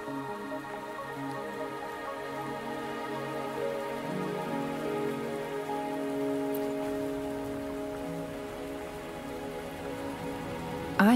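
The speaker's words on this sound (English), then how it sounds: "Are you trapped here by the rain?" Steady rain patters on surfaces in the video game Wuthering Waves, a constant even hiss beneath sustained soft musical tones.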